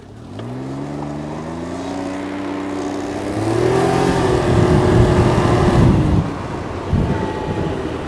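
Engine of a Can-Am Ryker Rally 900 three-wheeler rises in pitch as it accelerates from a steady drone into a louder surge, then drops back, heard close and without talk.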